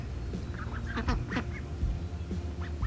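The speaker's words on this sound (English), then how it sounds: "So, here are the ducks." Ducks calling with a handful of scattered, nasal quacks and honks over a steady background rumble, moderately close and fairly loud.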